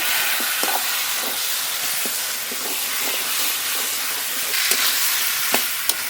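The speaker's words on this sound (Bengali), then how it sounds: "মশলা মাখানো চিকেন ঢেলে দেবো মশলার সঙ্গে খুব ভালোভাবে নেড়ে নেবো" Masala-coated chicken sizzles and fries in spice paste in a pan for a chicken curry, with a steady broadband hiss and light scraping clicks of stirring at irregular intervals, close and alone with no talk.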